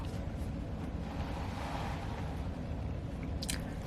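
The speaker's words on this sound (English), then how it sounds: "we're looking at the lapping waves here" Ocean waves lapping in a steady, broadband wash that stays loud and continuous throughout, with low wind rumble underneath and a few brief higher splashes near the end.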